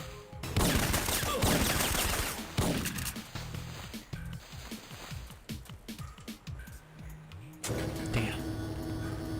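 Rapid gunfire from a fast-firing weapon in the video game Syphon Filter, bursts of quick repeated shots in a brisk rhythm, fairly close, with brief gaps between volleys.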